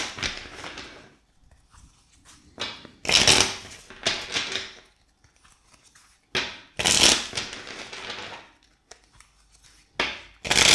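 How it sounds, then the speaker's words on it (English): Tarot cards are shuffled repeatedly in close, crisp bursts of riffling and rubbing, with several louder flurries separated by softer handling sounds and no talking. "So, shuffling 5 times for you."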